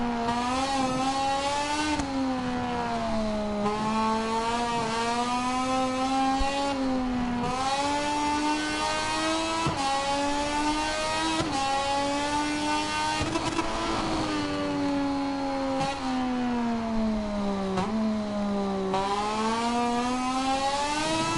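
A race car on a launch lap on medium tyres, its engine whining loud and close, the pitch climbing and dropping again and again through repeated upshifts and revs.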